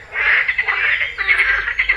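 Frogs croaking loudly and continuously near a carp-fishing spot in the morning, a dense chorus of raspy calls with no talk over it.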